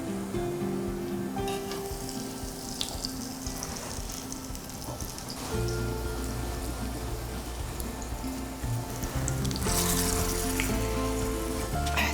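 Carrot fritters fry in a pan of oil with a dense, continuous crackling sizzle, rain-like and close, growing louder near the end.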